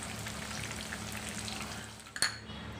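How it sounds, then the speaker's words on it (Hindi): Steady crackling sizzle of chicken pieces frying in hot oil fills the clip, ending with a sharper clatter near the end. "चिकन हमारी अच्छे से फ्राई हो चुकी है"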